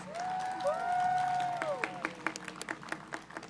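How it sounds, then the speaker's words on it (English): Audience applause for the 98th class of Wheel and Chain in the Dickinson community: gliding whistle-like tones and cheering at first, then distinct individual claps building and continuing to the end. "Can we give them another round of applause?"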